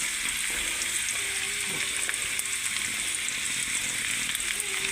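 Chopped onion frying in oil for a spicy tangra fish curry, with a steady, even sizzle and faint crackle running throughout at close range and no talking.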